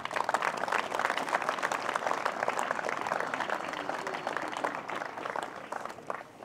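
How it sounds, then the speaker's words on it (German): An outdoor crowd in a town square in Mittenwalde applauds a politician arriving to give a speech, steady mid-distance clapping that holds evenly before tapering at the end. "kleiner Applaus wäre schön."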